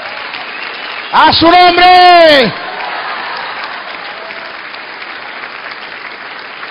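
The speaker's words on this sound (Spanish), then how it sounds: "¡Fuerte el aplauso al Espíritu de Dios!" A church congregation applauds steadily under a preacher's loud, shouted exclamation, with the clapping continuing as a constant wash throughout.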